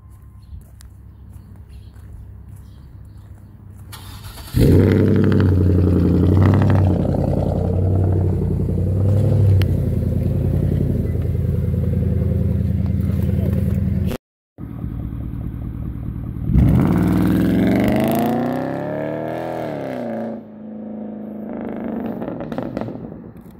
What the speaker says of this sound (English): I modified my exhaust, it's straight pipe, it's loud.